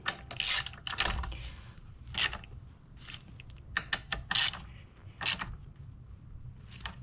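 A ratchet wrench with a socket and extension tightens exhaust bolts, giving several close bursts of fast clicking separated by short pauses.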